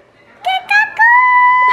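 A chicken's bright, tonal call, sounding in two short bursts followed by a longer sustained cry, close and clear with no talking over it.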